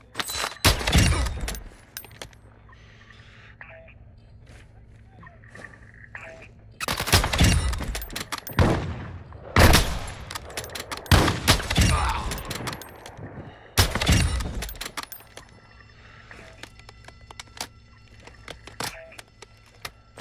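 Gunfire in the video game Call of Duty DMZ, heard as several loud, close bursts of rapid shots separated by quieter stretches, with faint game ambience and occasional voice chatter between the volleys.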